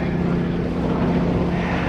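A remote control P-51 Mustang model airplane flies at an airshow, its engine and propeller giving a steady, loud, droning hum throughout the short stretch.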